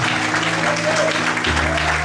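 Steady applause from a church congregation at an evangelical worship service, many hands clapping close and loud over a held keyboard chord that shifts pitch, with murmured voices in the crowd.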